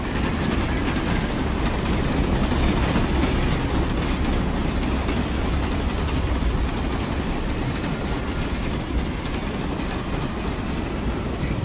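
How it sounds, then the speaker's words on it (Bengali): A night train, the Darjeeling Mail, rumbles steadily along the rails with a continuous dense roar and faint clickety-clack, loud and unbroken throughout with no voices. "তারা দার্জিলিং মেল ধরে রাতের ট্রেন ধরে পরের দিন সকালে পৌঁছে গেল শিলিগুড়িতে।"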